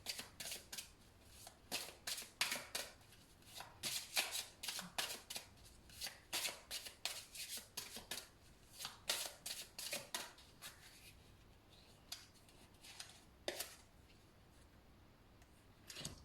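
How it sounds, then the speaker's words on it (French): Oracle cards being shuffled and drawn in a rhythmic run of close, soft riffling flicks that thin out near the end, with no talk over them. "Je vous tire une dernière petite carte."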